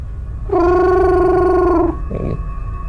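A human voice imitates a strange bird call heard at night on Kalimantan, near an oil palm plantation: one sustained, steady, whistling hoot held for over a second, followed by a brief softer murmur.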